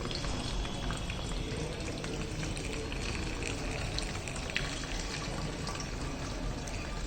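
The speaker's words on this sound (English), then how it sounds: "So if we give fuel through this funnel, so we can observe here the values are changing." Petrol is poured through a funnel into a fuel measuring device, giving a continuous, even rushing and trickling flow of liquid at close range for about seven seconds, with no speech.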